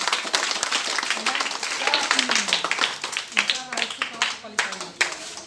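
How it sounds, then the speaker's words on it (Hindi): A village audience at a free coaching class claps for a teacher honored for teaching children without charge, a dense burst of many hands that thins toward the end, with voices mixed in. "तालियां बजा दिया है अमिता मैम के लिए"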